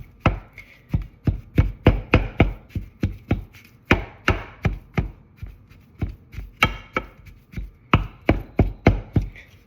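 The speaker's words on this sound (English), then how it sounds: "you want to just cut it up or chop it up" Food chopped down in a pan with a wooden spatula: a steady run of sharp, close knocks, several per second, with brief pauses between bursts, loud and alone without talking.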